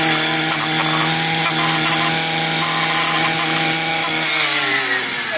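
A Stihl string trimmer mows grass right beside concrete, its small two-stroke engine droning loud and close in a steady high buzz, with line slapping and scraping texture throughout and no talking.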